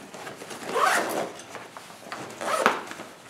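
Zipper on a bag's pocket section is pulled in two quick close strokes, each a short raspy zip with a pause between them.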